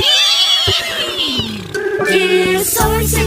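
A person imitates a horse neigh in a children's animal-sounds game, a loud, wavering whinny with a trembling, descending pitch followed by a brief higher burst, heard alone without talk.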